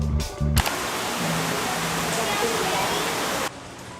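Steady broadband hiss of rain pouring at a luxury beach resort in Boracay, constant and fairly loud for several seconds after a short burst of voices at the start, then dropping abruptly near the end.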